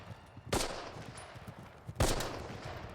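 Gunfire in the war TV series Band of Brothers: two sharp, loud shots about one and a half seconds apart, each with a short echoing tail, over quiet background.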